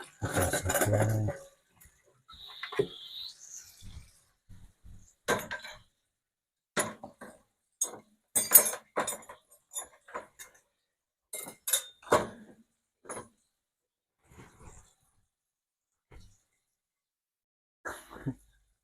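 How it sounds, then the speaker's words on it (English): Dishes and cutlery clink and clatter in scattered bursts while a dishwasher is loaded, close and fairly quiet with pauses between the knocks. "Still got plenty of time to throw our dishes in the dishwasher."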